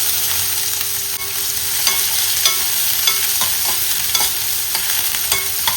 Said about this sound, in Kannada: ಚಿಕ್ಕದಾಗಿ ಹಚ್ಚಿರುವಂತಹ ಒಂದು ಈರುಳ್ಳಿ ಕೂಡ ಇವಾಗಲೇ ಹಾಕಬೇಕು.